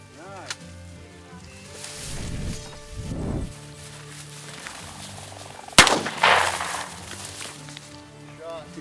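During a quail hunt in open country, a shotgun fires one sharp, loud blast with a short ringing tail, while people talk quietly before and after the shot.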